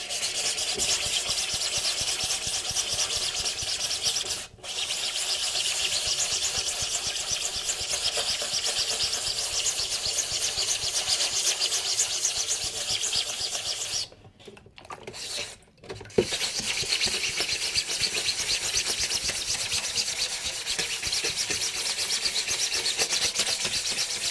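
Steady, continuous hand sanding of a 3D print with a sanding sponge, a dense scratchy rubbing that runs on without pause, with two brief breaks partway through.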